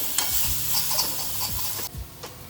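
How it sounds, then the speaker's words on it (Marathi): Dried fenugreek leaves with a pinch of asafoetida fry in a pan for a kachori filling, a near, even sizzle broken by rhythmic scraping stir strokes. "आणि त्यात आपण थोडीशी कसुरी मेथी ॲड करायची। हे छान फ्राय करून घ्यायचं।"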